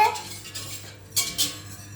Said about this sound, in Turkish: İyice karıştırıyoruz Karıştırmayı bırakmayın.